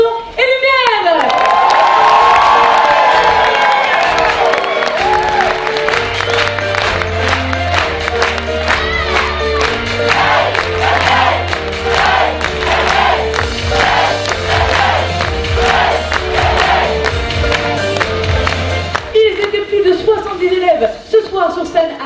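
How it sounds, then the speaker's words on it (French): At an amateur stage show in Millau, a large audience applauds and cheers loudly, with whoops and shouts over continuous clapping while music plays underneath. The noise thins out near the end. "un tonnerre d'applaudissements pour tous nos futurs techniciens son et lumière"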